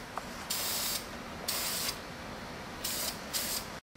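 Spray paint hissing onto the brake calipers of a 2007 Honda Civic, in four short bursts of about half a second each over a steady background hum, close by.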